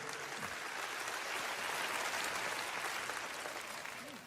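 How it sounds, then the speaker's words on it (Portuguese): Sustained applause from a church congregation praising the Lord during a Portuguese-language sermon, a dense, steady wash of clapping that swells and holds, with a faint voice briefly rising through it. "aplauda ao Senhor em louvor"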